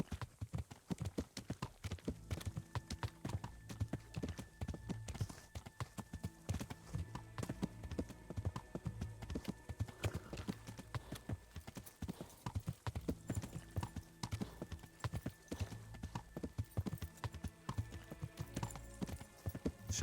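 Horse hooves clip-clop steadily and loudly throughout a ride in a medieval role-playing video game, a continuous rhythmic trot with game music or ambience underneath.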